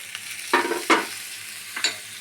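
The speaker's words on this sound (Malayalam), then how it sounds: "എല്ലാം കൂടി നന്നായിട്ട് ഫ്രൈ ആക്കാം." Thoran mixture of vegetables frying in a pan, with a few sharp scraping stirs of a spoon breaking up a steady low sizzle, close by and with no one talking.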